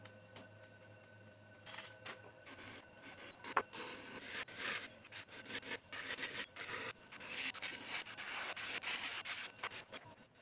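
A trimming tool scraping the foot of a top-heavy clay vase on a spinning pottery wheel, a soft continuous rasping that grows busier and rougher partway through, close and fairly quiet.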